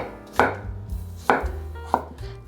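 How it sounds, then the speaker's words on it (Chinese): Kitchen knife slicing a peeled potato on a cutting board for a steamed cabbage-and-potato home dish: three crisp, close chops spaced about a second apart, each a sharp thud on the board. "把马铃薯切片"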